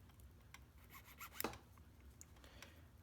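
A small file rasps on a replica roof vent post from a Marklin 352 J wagon: faint, short scraping strokes come in an uneven rhythm, with one sharper stroke in the middle, heard close and quiet.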